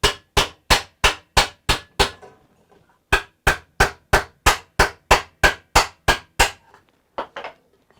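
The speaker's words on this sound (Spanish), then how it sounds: "aplanar nuevamente y después seguir martillando" Sharp hammer blows on metal ring out in two quick, even bursts of about seven strikes each, separated by a short pause, loud and close with no talking, in a workshop.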